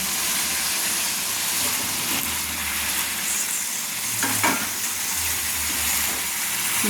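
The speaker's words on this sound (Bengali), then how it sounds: "দিয়ে আমি নেড়ে নিচ্ছি, সুন্দর করে নেড়ে নিচ্ছি" Potatoes being stirred into mutton curry in a pan, a steady close sizzle with soft scraping stirs and brief clinks around the middle, no talking.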